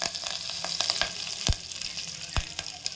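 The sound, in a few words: curry leaves sizzling when added to hot oil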